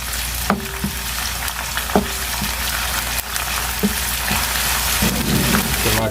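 Chopped onion, browned dark, fries with garlic-ginger paste in a pan for aloo baingan sabzi, giving a loud continuous sizzle and crackle. Several sharp clicks and scrapes of a spoon against the pan cut through the sizzle, and no one speaks.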